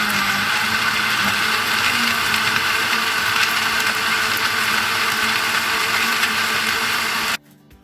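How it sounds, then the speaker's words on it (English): A blender whirs steadily and loudly at close range, churning chocolate cookies into a shake for about seven seconds before cutting off abruptly. "Now just put the lid on and then blend it"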